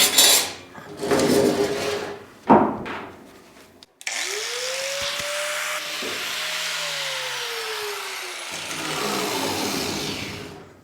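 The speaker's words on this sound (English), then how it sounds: "I need to take a wire brush to all this dirt on the T-post and grind off some of the paint off of this." Scraping and brushing on a steel T-post gives way to a steady, whining power grinder taking paint off the metal, its pitch swelling and falling over several seconds, close and loud with no talk.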